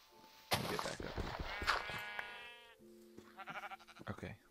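Sheep bleat in Minecraft survival play, several wavering, nasal calls in quick succession, some overlapping, mixed with sharp in-game clicks and thumps, fairly quiet overall and with no talking.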